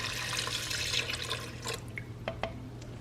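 Water is poured into a cooking pot for a boxed Zatarain's dirty rice mix, a close, steady splashing stream that tapers into a few drips near the end.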